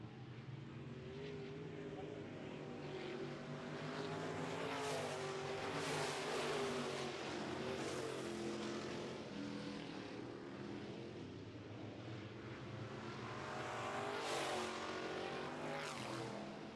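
Modified race cars roar together around a dirt track in a Midwest Modifieds heat race, a steady, dense engine drone that swells and fades as the pack passes at a distance.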